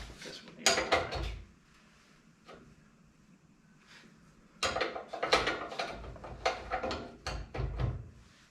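Wrench and metal clanks while a nut comes off the fork of a 1916 Indian PowerPlus motorcycle, with sharp clicks and rattles in two bursts separated by a quieter stretch.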